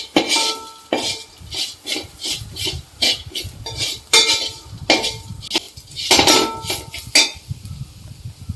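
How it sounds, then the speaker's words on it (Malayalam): Spice powders including asafoetida are roasted and stirred in a pan for tomato rasam, with a ladle scraping in a quick rhythmic series of loud close strokes against the metal. "പൊടികളെല്ലാം കൂടി നന്നായി മൂപ്പിച്ചെടുക്കാം"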